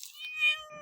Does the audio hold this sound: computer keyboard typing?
no